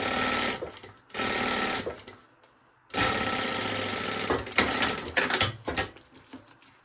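Sewing machine stitching fabric for a baby organizer in close, loud bursts, two short runs then a longer one ending in quick stuttering stops, with no voices.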